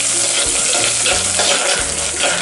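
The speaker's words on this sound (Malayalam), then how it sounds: "എണ്ണയിൽ ഇതിലേക്ക് വെളുത്തുള്ളി ഇട്ട് കൊടുക്കാം." Garlic drops into hot oil already holding green chillies while making Pallipalayam chicken, giving a loud, close sizzle with crackling spatter and stirring scrapes throughout, with no voices.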